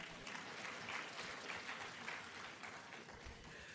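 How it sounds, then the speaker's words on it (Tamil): An audience claps at a Rotary district conference: steady, sustained applause from many hands, soft and somewhat distant, with no distinct voices. "உங்களுக்கு கூட நீங்கள் கைத்தட்டிக்க மாட்டீங்களா?"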